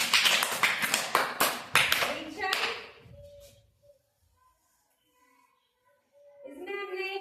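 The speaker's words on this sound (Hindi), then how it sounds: "ताली बजा दो।" A class of students claps loudly and briefly in a fast burst lasting about three seconds, then quiet, before a voice starts talking again at the end.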